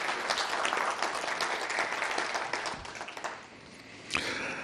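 Audience applause at a writers award ceremony, a steady wash of many hands clapping at moderate volume that thins toward the end before a brief final burst.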